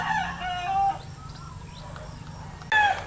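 Breeding chickens, broodstags and pullets, vocalizing nearby: a brief clucking or crowing call, a pause with quiet background, then another short burst.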